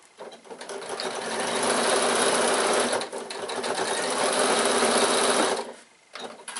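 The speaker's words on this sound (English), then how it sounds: "then we're going to sew across here to make it matching" Sewing machine stitching across a fabric strap for a piped bag handle, a steady, loud mechanical whir running continuously with a brief pause near three seconds and stopping toward the end.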